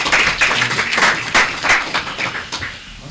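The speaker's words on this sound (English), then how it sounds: "Let's clap it up, brothers." Audience clapping for a speaker from Brotherhood Incorporated at a community panel on neighborhood safety, a moderate burst of applause with uneven claps rising and fading over a few seconds, fairly close and not under talk.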